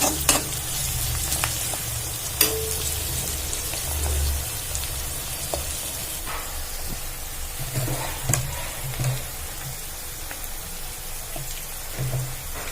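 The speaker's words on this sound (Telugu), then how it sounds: "ఈ తాలింపంతా బాగా ఎరుపు రంగు వచ్చే వరకు కలపండి" Onion tempering fries in hot oil for a chicken curry while being stirred, a continuous soft sizzle with occasional scraping clicks of the spoon against the pan, steady and alone.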